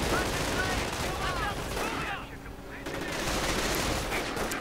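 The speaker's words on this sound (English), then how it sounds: "open up on the riflemen with their assault rifles" Assault rifle fire from riflemen in a real-time strategy video game battle, a dense crackle of overlapping shots that thins out briefly midway, then resumes at steady loudness.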